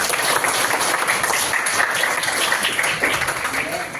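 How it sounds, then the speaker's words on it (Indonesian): A class in a school guidance session applauds a student named Andi, a dense wash of clapping throughout with voices mixed in underneath. "tepuk tangan untuk Mas Andi"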